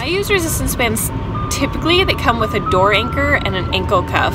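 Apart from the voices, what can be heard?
ice cream truck in the background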